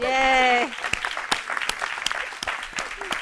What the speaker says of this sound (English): can we give the super grandma a round of applause?